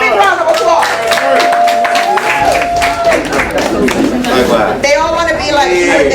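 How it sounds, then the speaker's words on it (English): An audience applauds and cheers for Mr. Ken Murph at an event in Harlem, the clapping mixed with crowd chatter and loud voices talking over it throughout. "Give him a big round of applause."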